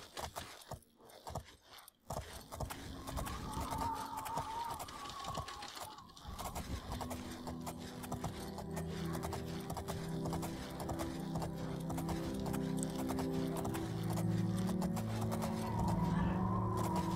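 A horse's hooves clip-clop in The Elder Scrolls IV: Oblivion. After a few scattered thuds the hoofbeats settle into a steady rhythmic gait over a bed of background music.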